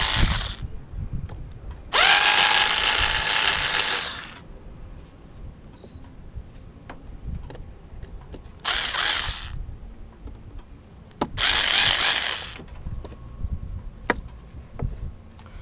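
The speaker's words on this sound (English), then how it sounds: "I'm just going to undo these screws here and take off the mass sensor" A power tool undoes the screws holding the mass airflow sensor on a Subaru Legacy GT intake, with several loud bursts of whirring between quieter handling and clicks.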